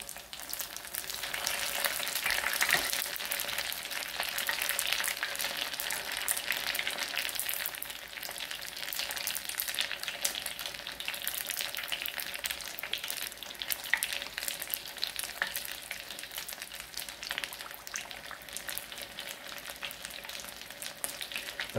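Crab rangoon deep frying in hot oil, a steady dense sizzle and bubbling that runs unbroken and fairly close throughout, with no talk over it.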